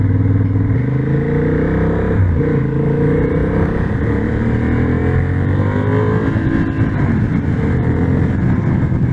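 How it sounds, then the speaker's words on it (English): A Honda CB750 Hornet motorcycle engine pulls hard under acceleration on a test ride, a loud, steady, close-up roar whose pitch climbs through the gears with no talk over it. "Pretty torquey at the lower speed."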